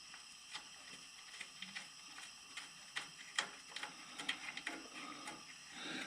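A screw being started by hand into a brake hose bracket while a new hose is fitted on a Ram, giving a quiet run of small ratchet-like clicks and ticks, close and unhurried, with no talk.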